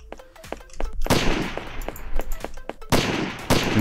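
Gunfire in the video game Garbage Day sounds as a rapid series of loud, sharp shots, a few heavier blasts standing out among lighter cracks over a few seconds, with no talking.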